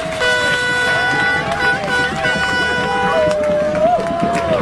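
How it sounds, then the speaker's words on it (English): Air horns blare at a street counter-protest where a guillotine prop stands, several sustained tonal blasts overlapping with crowd noise and voices throughout. "Air horns for the guillotine."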